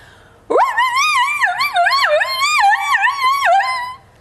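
A person's voice imitating wolf yips and yowls like a crazy howling dog, a rapid wavering cycle of rising and falling cries for several seconds, loud and close.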